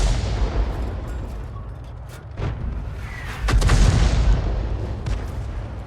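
A 105 mm leFH18B2 artillery gun fires in a tank battle game, with a couple of deep booms and heavy rumbling reports over a low background roar, the loudest shot arriving in the latter half.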